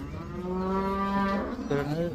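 A buffalo at a cattle market lets out a long, deep moo close by, then a shorter second call, with no talking.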